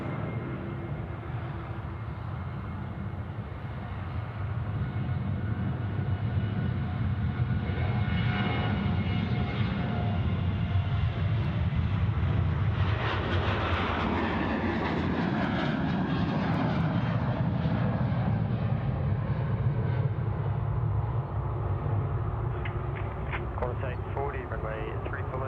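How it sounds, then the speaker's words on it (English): A Qantas Airbus A340 airliner takes off from runway 34 left at Sydney Airport, its engine roar swelling and holding loud and steady for the whole span, with a voice talking over it. "Qantas A340 to Darwin, being cleared for takeoff there, 34 left"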